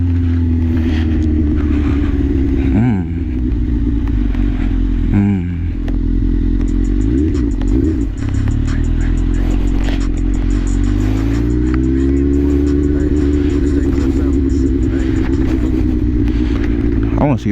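A Suzuki GSX-R1000 sport motorcycle runs close by on the streets of East Lansing. Its engine drones loud and steady, with revs swelling and falling a few times, some clatter, and faint voices partly buried underneath.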